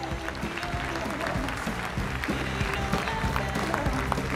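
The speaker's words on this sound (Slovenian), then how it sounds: "En aplavz." Audience applause at a rock and roll dance competition final as a placing is announced, steady dense clapping from a crowd with a few brief voices mixed in.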